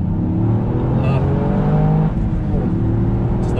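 A Toyota GR Yaris engine revs steadily under hard acceleration with a rising, continuous drone, loud and close throughout.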